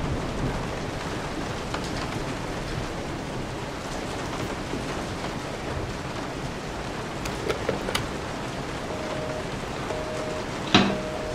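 Steady rain hisses continuously at low volume in the video game Resident Evil 7, with a few faint thumps and one brief louder crack of thunder near the end.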